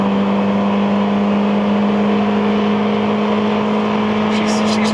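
A 1989 Honda Accord LXi coupe with 350,000 miles accelerating hard in third gear, its engine droning loud and steady from inside the cabin, someone talking over it.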